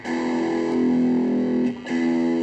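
A heavily distorted electric guitar rings out with sustained, gritty chords, a brief dip in the middle before the saturated tone returns, loud and alone.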